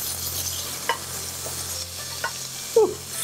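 Chopped cabbage and carrots sizzle and fry in an induction pan, with a few soft stirring clinks and scrapes standing out over the steady frying hiss.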